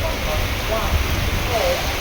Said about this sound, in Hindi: बरसात बहुत तेज आ गई है